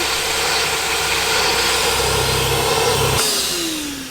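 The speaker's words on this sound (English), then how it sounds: "they had like a handheld massage gun and they were using it on the floor to kind of agitate the dust" A handheld massage gun is pressed against a floor to loosen dust, giving a loud, steady buzzing motor hum that cuts off and winds down with a falling whine just before the end.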